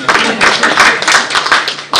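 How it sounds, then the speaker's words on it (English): A live audience claps in a burst of applause at a Kenyan apparel and footwear industry launch event, dense overlapping hand claps that swell and ebb over two seconds, loud and close. "Clap for me."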